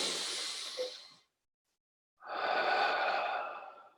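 A slow, deep belly breath: a long soft exhale that fades into a second of silence, then a full, steady airy inhale, close and quiet with no talking.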